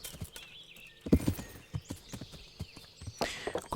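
Horse hooves gallop across open country in the video game Kingdom Come Deliverance, a quick, uneven clip-clop of close thuds with a brief snort and faint wind behind.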